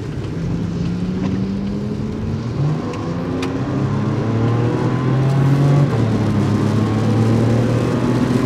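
Porsche Cayman engine pulling hard up a highway on-ramp, a steady loud drone with rising pitch as it accelerates, heard from inside the car amid wind and road rumble.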